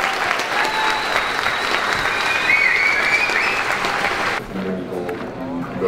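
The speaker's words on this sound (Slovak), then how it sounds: "Veľký poplesk a frenetický aplauz." Enthusiastic audience applause at a live show, a dense, even wash of clapping with some cheering that drops off sharply near the end, leaving quieter crowd murmur.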